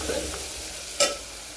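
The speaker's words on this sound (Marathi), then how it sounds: "हळदीला पण छान मिक्स होऊ द्यायचं." Turmeric stirred into a frying tempering for tur dal, a steady sizzle in hot oil with a single brief scrape of the spoon partway through.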